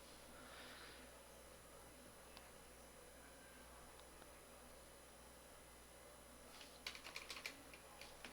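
Faint, sparse keystrokes on a computer keyboard in a quiet room with a low hum, ending in a quick cluster of louder clicking taps; brief murmured talk near the start.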